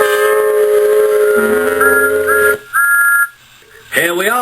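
A steam locomotive whistle sounds in a snowy Christmas scene, a pair of loud, sustained tones with a brief break, then a short second blast, followed by a voice.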